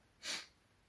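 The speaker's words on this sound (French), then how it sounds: "Le géant renifla" An ogre sniffs loudly and sharply once, a single short nasal inhale close up in a storytelling scene, with quiet before and after.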